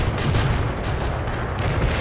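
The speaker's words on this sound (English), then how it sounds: "Artillery strike. Target received. Attacking." Artillery strike in the real-time strategy game World in Conflict, with heavy booms and blasts pounding in a dense, rapid barrage, loud and close, with no speech over it.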